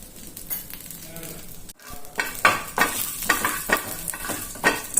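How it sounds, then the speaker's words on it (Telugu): Curry leaves and a pinch of turmeric powder fry in a pan for baby rava kichadi, a steady close sizzle broken by repeated scraping stirs, with no talk over it. "కొద్దిగా వేగనిద్దాము."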